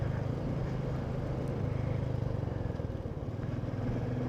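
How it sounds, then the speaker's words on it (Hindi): Motorcycle ridden over a gravel road on a Himalayan route from Padum to Leh, its engine a steady, close, continuous drone with faint crunching texture and no talk. "ये ग्रेवल पे बाइक चलाना थोड़ा सा मुश्किल है"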